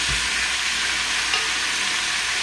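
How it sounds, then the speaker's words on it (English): Duck pieces fry in rendered duck fat in a small pot, giving a steady, close crackling sizzle that holds evenly throughout with no talking. "just frying them down with the color"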